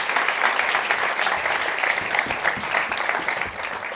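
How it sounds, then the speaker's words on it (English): Sustained audience applause for festival panelists at an event, steady dense clapping filling the clip at moderate loudness with no talk over it. "We get a round of applause for these folks."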